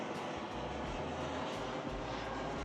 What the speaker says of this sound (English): There's airplanes, I feel like they fly over like every 45 seconds to a minute.